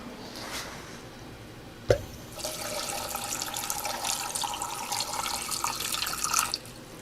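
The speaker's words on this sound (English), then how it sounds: "after you put the grit on, you're going to add your water" After a single knock, water is poured steadily into a tub of river rocks and grit, a continuous splashing gush lasting several seconds before it stops.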